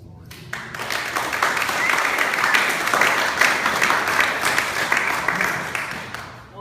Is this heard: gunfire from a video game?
no